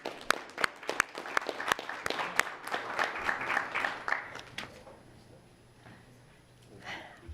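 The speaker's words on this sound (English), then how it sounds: "We'll give you another round of applause." Audience applause at a school board meeting, sharp individual claps building into a scattered round that thins out after a few seconds into room noise, with faint voices in the background near the end.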